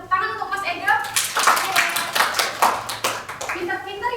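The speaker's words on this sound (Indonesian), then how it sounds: "Bisa tepuk tangan untuk Mas Edo." Classmates clap for a student in a classroom teaching session, uneven bursts of hand clapping mixed with children's voices and chatter, fairly close and lively.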